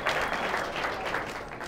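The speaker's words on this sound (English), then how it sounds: "Give a round of applause." Steady applause from an audience at a sales training event, a dense wash of many hands clapping that holds at an even level from start to finish.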